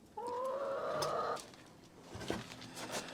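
Hens clucking close by among a brooding mother hen and chicks, a drawn-out tonal cluck followed by quieter short clucks and soft rustling.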